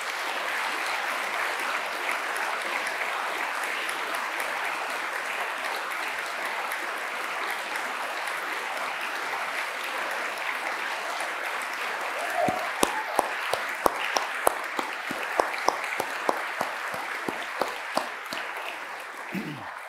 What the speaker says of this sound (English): I might ask you to give a special round of applause to Sir Frank.